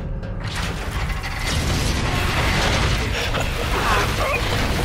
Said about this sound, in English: Let's get this door open, Reyes